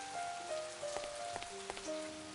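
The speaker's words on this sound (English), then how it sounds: "Even though it's raining" Rain falls steadily outdoors in a mystery adventure game based on Agatha Christie's And Then There Were None, a soft continuous patter with a few brighter drips, alongside faint sustained musical tones.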